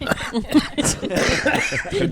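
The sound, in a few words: cough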